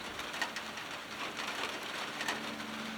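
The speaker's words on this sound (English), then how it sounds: "Weather's turning, getting some rain" Steady rain falling outdoors as the weather turns, a dense even hiss of drops with faint scattered patters, moderately soft and continuous.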